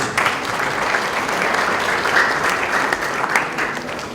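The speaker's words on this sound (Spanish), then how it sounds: "vamos a recibir también con un fuerte aplauso a Victorio Auxilia" A seminar audience on technology and market regulation breaks into steady applause for a speaker, many hands clapping densely and evenly at close range for a few seconds before tapering slightly.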